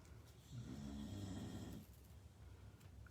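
One long, rumbling dog snore rises and fades, close by, followed by quieter breathing noise.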